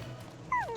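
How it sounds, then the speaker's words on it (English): A dog in a video game gives a single short, high whimpering yip near the end, faint over a low background hum. "Who's a good doggy?"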